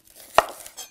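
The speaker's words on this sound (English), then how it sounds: "do some thin slices of shallot" A single sharp knife cut through shallot on a cutting board, one crisp chop standing out from a quiet kitchen background, close and clear with no talking.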